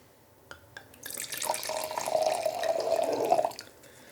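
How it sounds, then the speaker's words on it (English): Unfined, unfiltered wine pours from a bottle into a glass in one steady, close gurgling stream of about two seconds, with a few light clinks before it. "So we're just going to pour a little wine."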